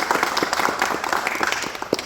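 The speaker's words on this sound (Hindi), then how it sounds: "तालियां" Clapping from an audience during a feedback meeting on m-stove cookstoves, heard as a steady patter of many hands that stays fairly loud and dense for the full two seconds with no talk over it.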